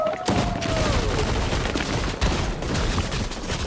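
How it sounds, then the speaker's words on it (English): Rapid gunfire bursts from a shotgun in the Fortnite video game, loud and continuous through the whole stretch with chaotic game effects layered on top. "My stupid shotgun wasn't reloading fast enough."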